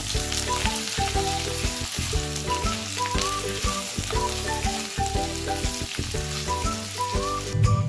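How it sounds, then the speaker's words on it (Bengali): Black cumin seeds and a green chili frying in hot oil in a pan, giving a steady, loud sizzle that carries on without a break under background music. "কালো জিরেটাও ভেজে নিতে হবে। আর একটা কাঁচা লঙ্কা দিচ্ছি। এগুলো ভালো করে ভেজে নিতে হবে।"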